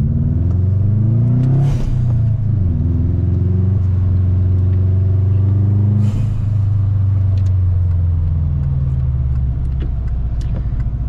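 A Subaru engine revving hard while driving, loud and close, rising through the revs with a couple of shifts and a sharp hiss at each change before settling into a steady drone.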